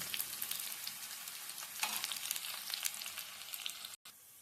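Mustard seeds, dried chilies and shallots fry in hot oil, a fairly quiet, dense crackling sizzle that continues evenly and then cuts off abruptly near the end.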